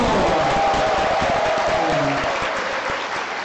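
An audience at a forum talk concert claps steadily to welcome a university professor, a dense close round of applause holding strong and easing slightly near the end, with a voice faintly underneath.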